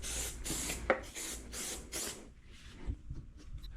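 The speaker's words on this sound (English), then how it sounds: "Lube up the tire." Lubricant sprayed onto a motorcycle tire in several short bursts, close and fairly quiet, followed by softer rubbing and handling sounds.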